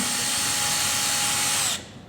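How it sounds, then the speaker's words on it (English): A power drill drives screws into a sofa, whirring loud and steady at close range for nearly two seconds before stopping abruptly, with no talk over it. "So here we go. I'm going to drill it in."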